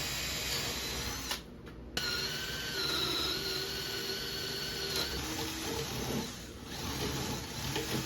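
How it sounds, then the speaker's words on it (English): A power drill boring out a mortise in wood for a DIY art easel, a steady whining motor with a short dip partway through, continuous and close, with no talking. "I tried using a drill just to see what the result will be"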